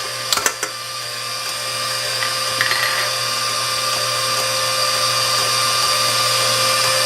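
An electric mixer whirs steadily as it beats egg whites until foamy, a continuous high-pitched motor hum with a few brief knocks at the start.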